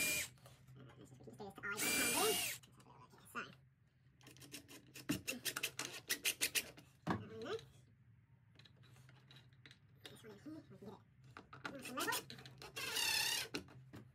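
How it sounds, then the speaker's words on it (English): A power drill bores a pilot hole for a wireless light switch install in short close bursts of whirring, separated by scraping, handling noise and quiet talk. "So let's just do one little quick pilot hole."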